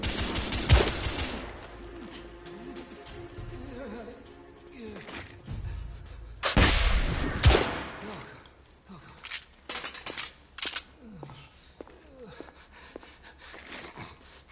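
Gunfire in the video game The Order 1886, a few heavy shots and bursts amid clinking debris and game sounds, with voices talking over the action.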